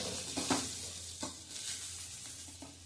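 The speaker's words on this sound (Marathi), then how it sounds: "आता मी गॅस जरा बारीक केलाय आणि हा पेरू छान परतून घेणार आहोत." Guava pieces sautéing in a pan over low gas, a soft steady sizzle with a few stirring scrapes, close but fairly quiet, no speech.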